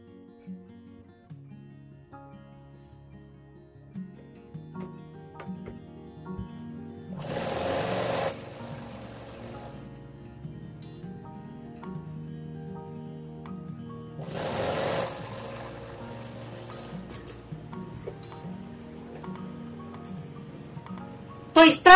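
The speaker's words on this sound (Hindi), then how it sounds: "अब हम उस तरफ भी इसी तरह से सिलाई लगा लेंगे।" A sewing machine stitches the seam of a Patiala salwar in steady, close whirring runs with short pauses between them, and someone talks quietly through the stitching.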